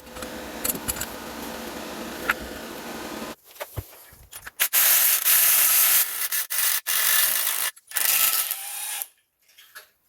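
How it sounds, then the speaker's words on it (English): A ratchet wrench strains against a completely seized, rusty, corroded bolt on a BMW F10, with sharp metallic clicks and grinding bursts, loud and close, broken by short pauses and ending in near silence. "we're going to try with a stronger bolt and see if this breaks this completely seized, rusty bolt"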